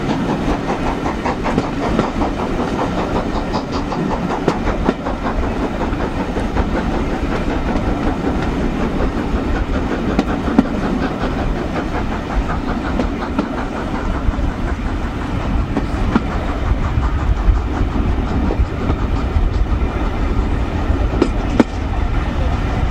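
The Jacobite steam train running on rails, a steady close rumble with rhythmic clickety-clack and some hiss that carries without a break from start to finish.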